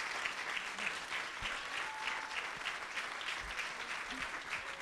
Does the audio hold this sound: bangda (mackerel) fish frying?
no